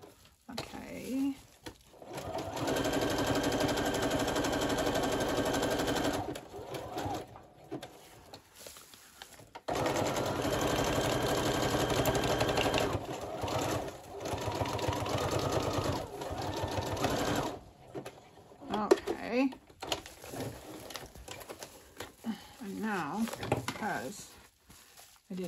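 A sewing machine runs a zigzag stitch across a journal cover of bubble envelopes in several long, steady, close whirring runs broken by pauses, with softer handling clicks and quiet speech heard between the runs.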